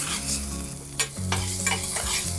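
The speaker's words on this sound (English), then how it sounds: "Now I'm gonna put in the radishes." Radishes tossed into a hot pan, a close sizzle with clattering stirs and sharp scraping hits over a low background hum, no talk.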